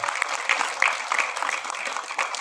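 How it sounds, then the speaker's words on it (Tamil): Audience applause at a film audio launch event, a steady round of clapping from a crowd with sharper individual claps standing out, lasting a few seconds. "ப்ளீஸ் ஒரு கைத்தட்டல் கொடுங்க."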